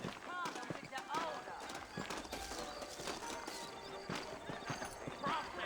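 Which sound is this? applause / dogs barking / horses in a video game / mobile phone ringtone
horses in a video game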